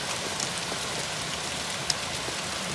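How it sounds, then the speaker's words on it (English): Rain falls after a hailstorm in May, a steady close hiss of drops on the ground with a couple of faint ticks and one sharp tap. "See, it's back to rain."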